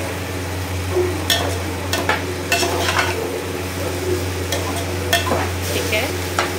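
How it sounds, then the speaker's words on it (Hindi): Rice being stir-fried in a pan on high flame, a continuous sizzle under repeated scraping and tossing strokes of a spatula, close and steady throughout with no speech. "राइस डाल के अच्छे से हाई फ्लेम पे जस्ट मिक्स करेंगे"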